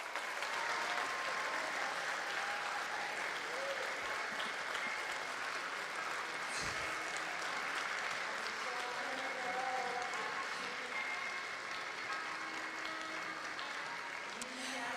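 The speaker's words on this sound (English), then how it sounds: "So first up, we have Team Singapore. Please give you a round of applause." Steady, sustained audience applause at a Commonwealth esports championship in Birmingham greets Team Singapore, a continuous wash of clapping lasting the whole stretch, with faint voices murmuring underneath.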